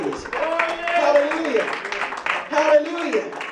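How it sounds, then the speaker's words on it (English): A church congregation claps hands in praise, a broad burst of applause running under a preacher's sustained, sung exclamations throughout. "Somebody give the Lord a hand clap of praise"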